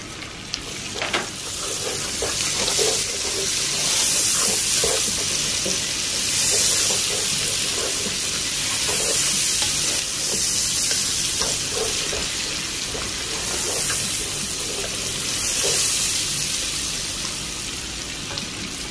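Onion and garlic sizzle steadily in hot oil in a pot for Ilocano-style duck adobo, a continuous bright frying hiss with scattered soft stirring scrapes and no talking.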